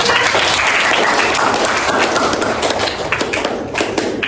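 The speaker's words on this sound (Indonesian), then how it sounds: "tepuk tangan untuk kita" Classroom applause from students during an Islamic studies (Akidah Akhlak) lesson: dense, steady clapping fills the whole stretch, thinning slightly toward the end.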